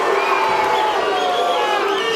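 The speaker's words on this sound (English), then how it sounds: "don't know what the crowd is unhappy about" A boxing arena crowd roars and jeers with displeasure, a dense, loud, continuous wash of voices that holds steady without a break.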